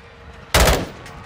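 A single short burst of automatic gunfire in the video game Call of Duty: Modern Warfare 2 cracks loudly and closely after a quiet moment, then fades into low ambient battlefield noise.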